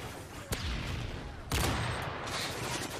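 Gunfire bursts from Modern Warfare 3 multiplayer play, two sharp rapid-fire volleys about a second apart over constant dense game noise.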